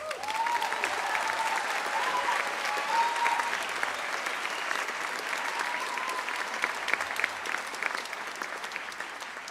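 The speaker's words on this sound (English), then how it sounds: "Why don't you give yourself another round of applause?" Graduates applauding at a college convocation, a dense, sustained round of clapping from a large crowd filling the hall, steady and even in level, with a faint tone or voice briefly audible beneath it.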